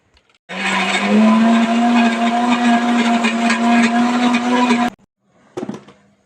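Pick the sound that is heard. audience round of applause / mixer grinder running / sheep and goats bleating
mixer grinder running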